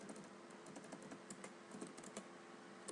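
Java code is typed on a computer keyboard in a quiet room, a steady, faint patter of keystrokes with no one talking.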